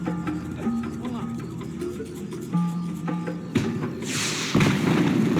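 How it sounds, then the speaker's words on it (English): Fireworks go off in the video game Max Payne 3: a few sharp booms, one followed by a crackling burst, set against in-game dialogue and a low background score. "The fireworks display was clearly in my honor"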